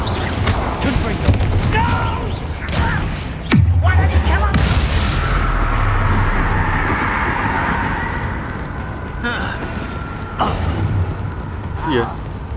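The Confringo explosive spell going off in Hogwarts Legacy, giving several booming blasts and rumbling impacts over a sustained noisy scene, with talking in places.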